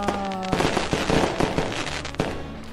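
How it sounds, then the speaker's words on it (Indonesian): Firecrackers and fireworks go off in a video game New Year celebration, giving a rapid string of loud cracks and bursts over a steady crackling roar. Sharp pops stand out at intervals, and no one speaks. "Saatnya nyalakan petasan."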